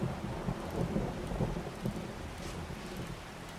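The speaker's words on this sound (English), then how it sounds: "I guess thunder sounds are really that loud." Thunder rumbling with steady rain in the survival video game 7 Days to Die, a loud, continuous low roll of thunder with repeated heavy swells over the hiss of falling rain.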